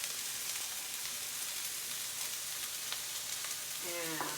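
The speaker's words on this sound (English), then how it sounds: "peppers and onions that I pre-chopped because that's a nerdy kind of girl I am. Put them in the coconut oil." Chopped peppers and onions fry in hot coconut oil in a small home kitchen, giving a steady, close sizzle throughout. A brief clatter and scrape comes near the end.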